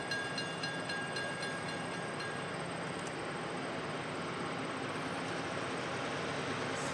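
A CSX freight train rolls along a Pan Am Railways line in western Massachusetts, a loud steady rumble and roar of passing cars with faint squeals, no voices.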